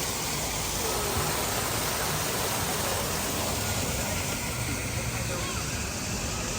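Waterfall beside the Disneyland Storybook Land canal boat ride, a steady, broadband rush of falling water that holds evenly throughout, close and continuous, with no voices over it.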